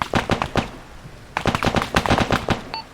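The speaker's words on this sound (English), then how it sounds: "I hear gunshots near the hospital." Gunfire in the military game Arma: two bursts of sharp, rapid shots with a pause between them, fairly close and punchy, and no voices.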